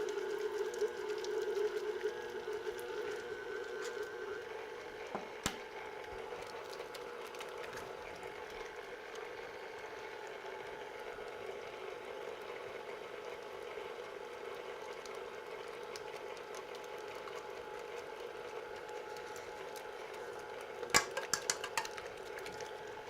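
Stand mixer beating a crab meat mixture, a steady mechanical whir with faint rhythmic clicking and rattling against the bowl, continuous at moderate level with a brief louder clatter near the end.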